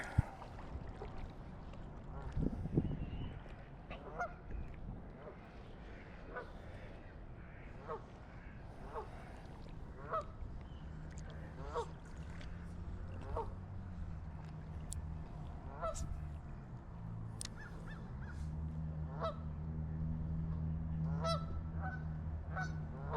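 Geese honk repeatedly at a distance along a winter creek, a loose chorus of calls spread over steady outdoor water and engine rumble.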